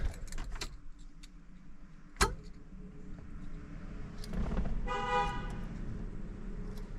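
The horn relay of a 1969 Pontiac Bonneville 428 station wagon, a barn find parked for 45 years, chatters in a quick burst of buzzy clicks, close and fairly faint beside keys jangling and a sharp tap.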